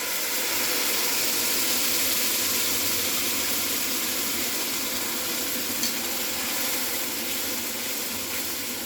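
A tamarind and jaggery mixture for raj kachori chutney sizzles in hot oil, a dense continuous frying hiss that stays loud and even throughout with no talking.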